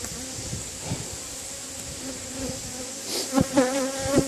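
Steady, dense buzzing of many bees close by, with a few individual insects droning louder past the microphone near the end.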